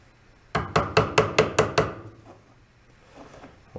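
A pin being driven back in with a hammer on a vise during a snow blower electric start repair: six or seven sharp metallic blows in a quick, steady rhythm, close and loud, then a quiet tail.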